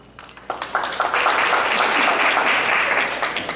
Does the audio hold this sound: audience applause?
yes